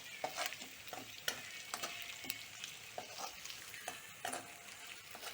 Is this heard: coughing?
no